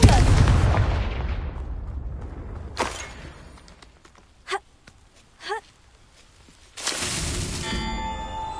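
Explosive Confringo spell cast in Hogwarts Legacy on PS5: a loud burst with a long decaying rumble at the start, then quieter magical crackles and a second swelling blast near the end, with no talk over it.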